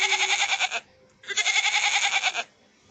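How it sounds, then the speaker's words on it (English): A goat bleats twice, each a long wavering, quavering cry lasting under a second or so, loud and close with a short quiet gap between. "Where is the goat?"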